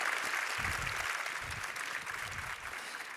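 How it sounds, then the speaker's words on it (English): An audience at a corporate panel session on AI applauds the speakers, a continuous, moderately faint wash of clapping with some low thumps underneath, steady throughout. "please give them a warm, big applause"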